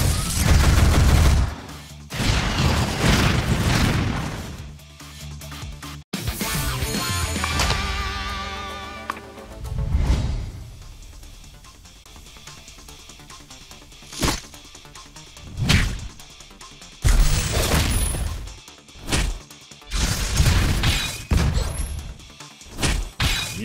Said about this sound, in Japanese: ミサイル発射。